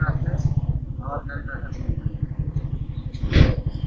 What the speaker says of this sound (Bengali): আমি বাইকটা একটু এখানে পার্ক করি।